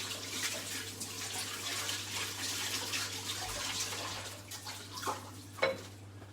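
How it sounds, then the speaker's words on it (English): Hands are washed quickly under a running kitchen tap after preparing a lamb roast, the water giving a steady close splash with a low electrical hum underneath and a couple of louder splashes near the end. "Wash my hands up quickly."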